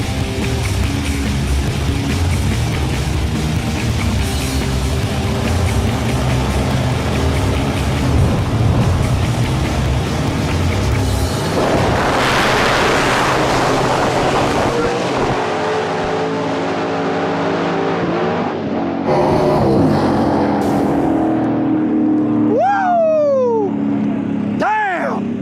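Two no-prep drag racing cars, Old Heavy and Farm Truck, roar down the strip with loud, sustained engine noise that builds and then cuts out, followed by a quieter tail with people's voices.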